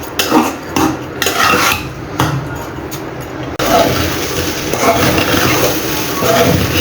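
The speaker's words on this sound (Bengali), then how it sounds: "এখন এটাকে আমি ভালো করে ভেজে নিব।" Pulao rice is fried and stirred in a pan, a spatula scraping and clinking against the metal in repeated strokes, then a steady louder frying hiss with continued stirring.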